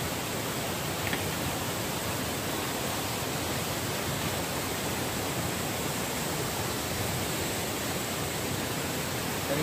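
The Vaghalyacha Kada waterfall roars as a steady, dense, even wash of rushing water, continuous and loud throughout with no voices.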